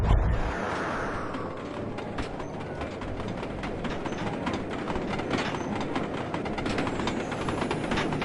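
A train rumbles steadily along the track in the Sly Cooper 2 video game, a continuous loud roll of wheels and clatter that stays constant with no voices.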